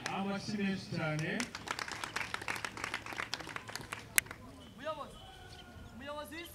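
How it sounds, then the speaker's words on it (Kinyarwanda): Applause and clapping from a crowd at a community ceremony in Kinyinya, Rwanda, marking the close of a national service programme. Sharp claps rise under a voice over a loudspeaker, then thin out as talking continues. "amashyi menshi cyane."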